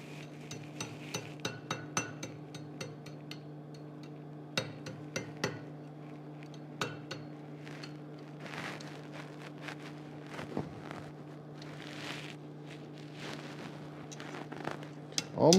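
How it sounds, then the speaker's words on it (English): Hot metal struck with a large hammer eye drift during evening forging, giving a series of sharp metallic taps and clinks at an uneven rhythm, fairly close, over a steady low hum. "I'm tapping it with a big hammer eye drift"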